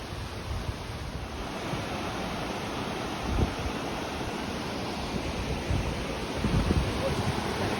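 Rushing river water beside a one-lane bridge in Mindo, Ecuador, a steady broadband roar with occasional low thumps of wind on the microphone, constant throughout.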